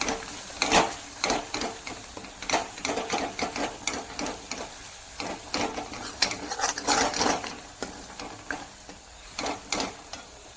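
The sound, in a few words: roasting homemade black masala and spices in a pan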